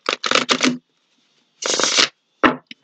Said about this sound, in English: I've been shuffling these cards with you in mind